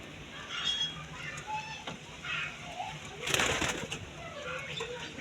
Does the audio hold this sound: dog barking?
no